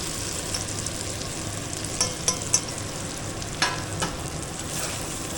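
Prawn malai curry masala sautéing in a pan, a steady sizzling fry with several sharp scraping knocks of a spatula stirring against the pan, nearby and moderately loud.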